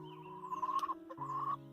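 Hens cluck close by in a short burst, with steady drawn-out tonal clucks broken by a few sharper notes, clear against a quiet background.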